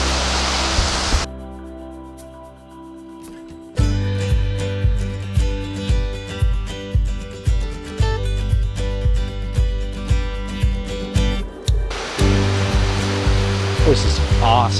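Water rushing steadily at a woodland waterfall near an old Civil War hideout, a constant broadband roar heard close, with a rhythmic pulsing layer over it in the middle section and a voice talking in places.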